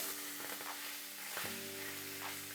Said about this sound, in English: Once the oil is hot, I'm gonna be adding 12 ounces of tuna. Okay, we're gonna fry it for a little bit.